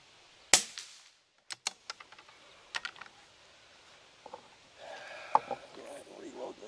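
A Savage B22 rimfire rifle fires one sharp, close crack outdoors, followed by a scatter of lighter clicks and knocks like handling of the gun, with faint background sounds toward the end.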